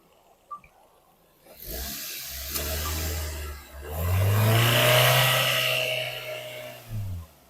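Petrol engine of a 2017 Maruti Swift Dzire VXI running under the open bonnet, a steady close hum that swells as it revs up and then settles, with no talking.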